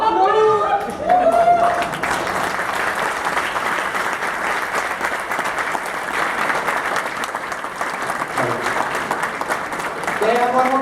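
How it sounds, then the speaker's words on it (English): An audience applauds after an office skit at a company pre-celebration event, with steady loud clapping from a crowd and voices speaking over it at the start and end. "Can I have one more big round of applause for our education?"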